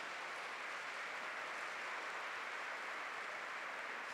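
A church congregation claps together in a steady, even wash of applause that sounds fairly distant and soft and lasts throughout.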